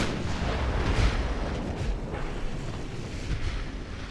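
A torpedo strikes a warship during a naval battle in Ultimate Admiral, producing a deep, heavy blast rumble that swells and then rolls on steadily with no voices.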